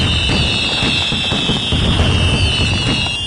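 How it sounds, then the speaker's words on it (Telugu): A big rocket firework launched in an animated story, giving a loud, sustained high whistle over a rough crackling rush that lasts the whole moment. "పిల్లలు ఎంతో ఇష్టంతో టపాసులు కాలుస్తారు"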